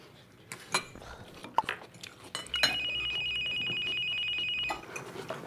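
A telephone rings with a steady electronic trill lasting about two seconds, heard over light clinking of cutlery and dishes at a meal.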